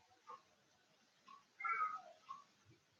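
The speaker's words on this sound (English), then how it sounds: "that was my cat. I don't know what she's doing" A faint cat meows a few times at a distance, short calls with one longer, louder meow in the middle, over quiet background.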